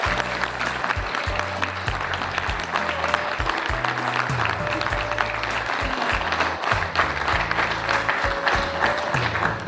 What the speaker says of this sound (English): please join me in welcoming on stage our CMD Mr. Vikas Rawat with a huge round of applause.